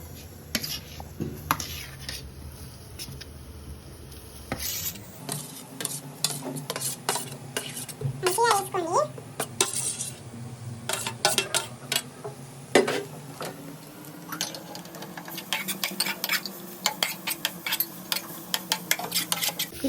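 Grated carrot stirred in ghee in a pan for carrot halwa, a steady scraping and clinking of spoon on metal with soft sizzling, continuous and close, without talk.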